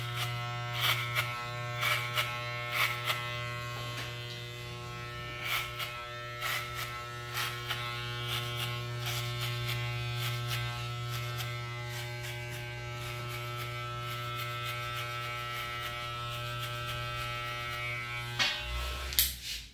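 An electric hair clipper buzzes steadily at close range while cutting a fade, a constant hum with short crackling bursts as the blades pass through hair, fairly quiet overall.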